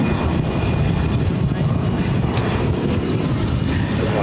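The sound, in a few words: Delta Airlines Airbus A319 taking off from Boston Logan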